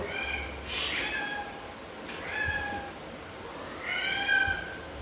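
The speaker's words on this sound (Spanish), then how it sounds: "acá hay muchos gatos, no hay problema" A cat meows three times at steady intervals, each a clear rising-falling cry, over a low background hum, moderately close.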